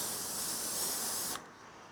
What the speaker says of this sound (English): So give it another spray, hairspray.